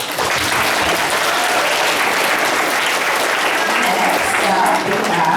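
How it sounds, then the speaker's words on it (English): Loud, steady applause from a school audience for a young girl performing beginner jump rope tricks with the Sol Jumpers, sustained dense clapping throughout with some crowd noise mixed in. "Everyone give her a round of applause."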